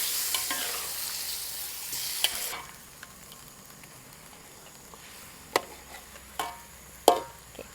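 Chicken pieces cooked with oyster sauce, sweet soy sauce and water bubble in a pan; a loud sizzle fades to a quieter simmer, broken by a few sharp clacks of a spatula stirring against the pan.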